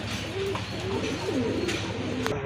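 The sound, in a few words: Giribaz pigeons cooing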